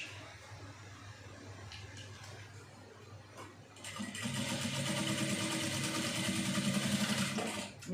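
Sewing machine stitching corset fabric. A close, steady whirring motor with a rapid needle chatter starts partway through and runs continuously, after quieter handling noise at the start.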